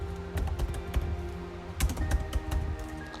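A run of quick, close keystrokes on a computer keyboard as a disk-listing command is entered while preparing a bootable Windows 10 drive, with clustered taps and a brief pause between bursts and no talking.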